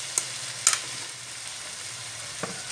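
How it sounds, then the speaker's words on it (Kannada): Prawns shallow-fry in a pan for a chilli prawn dish, a steady quiet sizzle broken by a few faint clicks and taps from stirring, with no one talking. "ಈಗ ಪ್ರಾನ್ಸ್ ಫ್ರೈ ಮಾಡುವ"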